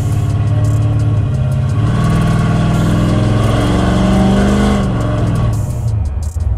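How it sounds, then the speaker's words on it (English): A custom cruiser car's exhaust note revving, a loud, close, deep rumble that swells and holds steady before easing off near the end, with no voices. "the exhaust note's pretty darn wicked"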